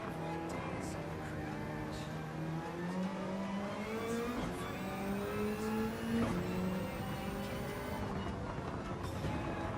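A race car engine in Gran Turismo 7 whines steadily as the car comes through the first few corners. Its pitch climbs through the gears, with brief dips at the shifts and a constant hum underneath.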